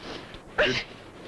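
A single short sneeze, fairly close, rising briefly out of a quiet room background.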